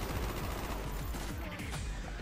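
Sustained automatic gunfire in Call of Duty: Black Ops, shots punching through walls in a continuous dense burst, loud and crowded with overlapping reports and no pauses.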